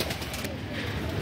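Male Madrasi-line pigeons coo in low, throaty, overlapping calls that roll steadily under a dense, close hiss of flock noise, with no clear break across the short stretch.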